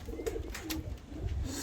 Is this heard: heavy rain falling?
no